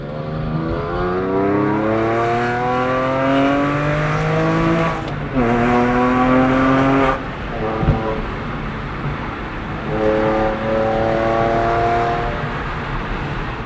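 Porsche 996 fitted with a Slakker 4.1L engine driving hard through turns, its engine note rising and falling steadily with shifts, loud and close throughout, with brief voices speaking over it.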